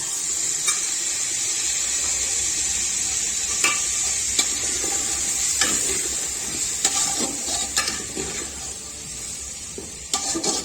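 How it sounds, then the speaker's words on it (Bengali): Ginger-garlic water is tipped into a pot of frying mutton, making a steady sizzle and bubbling with scattered spoon scrapes and clinks, close and continuous with no talking. "সেই জলটা আমি এর মধ্যে ঢেলে দেবো।"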